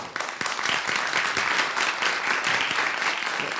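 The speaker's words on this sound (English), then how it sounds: "Round of applause for all of us." Sustained applause from a lecture audience at a university distinguished scholars event, dense steady clapping filling the room throughout without any voices.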